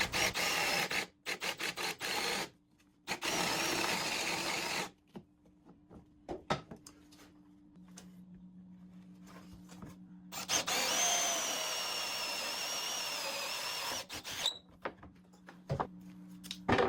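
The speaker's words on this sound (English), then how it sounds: "then I will drill out a hole for that in the handle there, which you see me doing here" Power drill boring a hole through a wooden handle in a woodworking shop, with a high whining spin in bursts broken by pauses, clunks and handling noises, loud and close with no talk.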